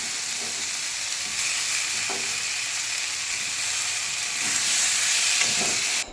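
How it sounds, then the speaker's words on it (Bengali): Potatoes and soybeans with spices fry in a hot pan and get stirred, giving a steady, close sizzle and hiss that swells slightly toward the end, with faint scraping from the stirring and no one speaking. "ভেজে নেওয়ার পর এক এক করে সমস্ত মশলা দিয়ে সোয়াবিনগুলো দিয়ে দিলাম, দিয়ে একটু নেড়ে চেড়ে নিয়ে জল দিয়ে দেবো।"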